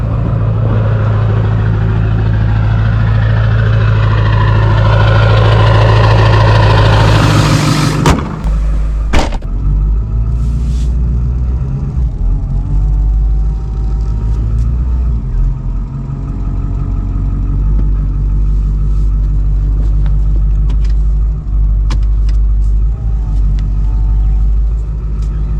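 Loud, close Ford 7.3L diesel pickup engine, filled with gasoline, idling with a deep steady rumble; the pitch is raised at high idle early on, drops back after a few seconds, then holds a lower, even idle.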